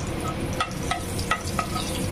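Whole spices and two bay leaves sizzle in hot oil previously used to fry paneer, a steady close crackle with a few sharper pops and stirring clicks, no talking.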